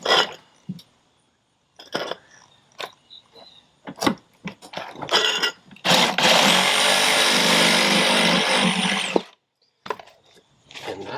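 A power saw cuts through cedar deck boards during a repair, a sustained loud cutting run of about three seconds in the middle, set between short scraping and knocking sounds of work on the deck.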